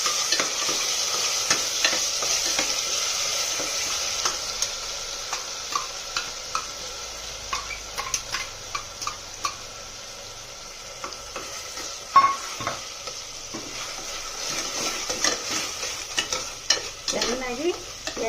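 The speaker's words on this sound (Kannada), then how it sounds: "ಇವಾಗ ನಾನು ಈರುಳ್ಳಿ, ಬೆಳ್ಳುಳ್ಳಿ, ಶುಂಠಿ, ಅರಿಶಿನ ಇಷ್ಟು ರುಬ್ಬಿಕೊಂಡಿದ್ಮೇಲೆ ಇದನ್ನು ಹಾಕ್ತೀನಿ" A ground paste of onion, garlic, ginger and turmeric fries in hot oil for a village-style egg and chicken curry, sizzling steadily with frequent stirring clicks and spoon scrapes, close and without talk.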